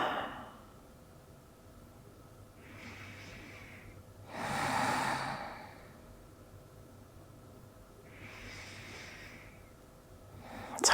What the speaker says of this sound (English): breathe as deeply as you comfortably can